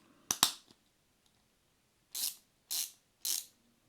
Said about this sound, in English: you can use the little ratchet with the adapter to use the nuts